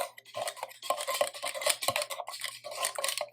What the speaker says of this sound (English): I'm doing it with a whisk.